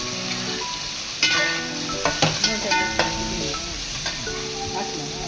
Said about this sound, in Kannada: ಪುದೀನ ಎಲ್ಲ ನೀಟಾಗಿ ಫ್ರೈ ಆಗಬೇಕು.